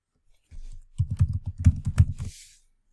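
A quick burst of typing on a computer keyboard, about a dozen close, crisp key clicks in rapid succession, heard without voices.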